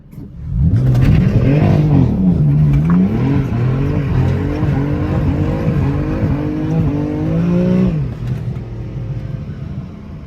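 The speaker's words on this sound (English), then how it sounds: "that's how you slide an F80" The engine of a BMW F80 M3 revs hard and loud through a drift, surging and wavering in pitch in repeated rises for about seven seconds. It then eases off to a lower roar, with faint tire noise underneath.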